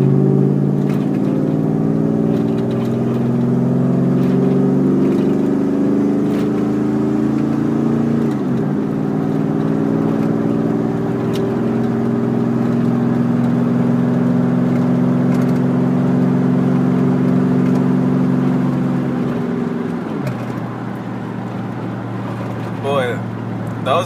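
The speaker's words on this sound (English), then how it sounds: "Those mufflers hollowed out sound really good." A Chevrolet Silverado truck with custom hollowed-out mufflers drones loudly on a highway, its exhaust note rising and falling through gear changes and revs, with talk over it.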